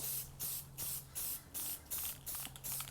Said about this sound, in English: I'm going to spray it with the blue paint.